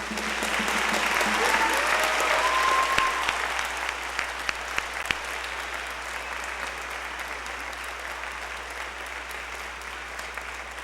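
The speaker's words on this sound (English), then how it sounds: "Let's give them a round of applause." Sustained applause from an audience at a junior high band awards concert, a broad, even roar of many hands that holds steady and slowly tapers, with a few faint sustained tones and sharp knocks in the background.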